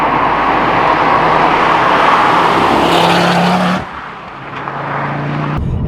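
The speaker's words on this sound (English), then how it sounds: "third gear now, and this car is super quick" A 2009 MK2 Ford Focus RS five-cylinder hot hatch accelerates hard through the gears, its engine note loud and rising, then a sharp drop in revs at a shift before pulling again, heard from close by.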